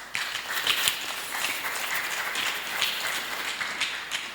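A church congregation applauding steadily, a dense wash of many hands clapping in a reverberant hall at moderate distance.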